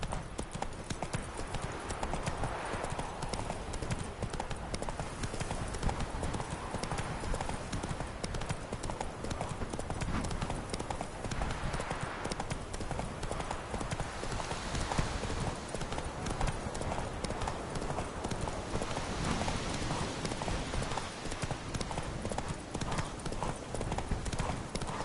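Steady clip-clop of horse hooves from a ridden horse in The Witcher 3, a continuous even trot running the whole time at moderate loudness under a dense ambient game bed.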